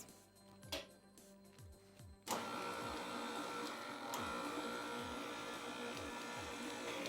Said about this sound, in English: you're going to put this on medium and let this mix.